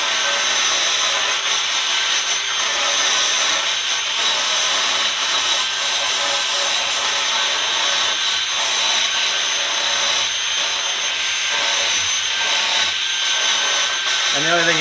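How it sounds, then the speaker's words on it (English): A rotary bristle brush whirs continuously against Sapele wood during final sanding of a bed, a steady abrasive sanding drone with no pauses. "So this is kind of the final sanding stage."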